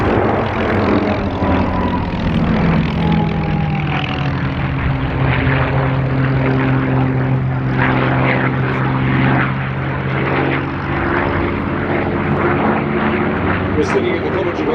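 A P-51 warbird propeller fighter flies at a 2024 airshow, its loud, droning engine rising and falling in pitch as it passes, with a commentator's voice talking over the roar.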